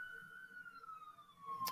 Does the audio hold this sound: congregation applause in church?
no